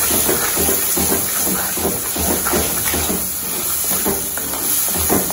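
Tomato with turmeric powder and salt sizzles in a hot pan as it is sautéed, a steady close hiss with faint scraping through it and no talking.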